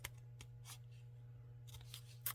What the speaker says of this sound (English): I've got some scissors here to trim off the excess